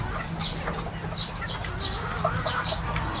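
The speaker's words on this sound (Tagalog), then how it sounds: "oras na naman ang pakain ng ating mga manok ating mga alaga" Chickens clucking softly in a coop at feeding time, with scattered short calls and a few brief wing flaps over steady background noise.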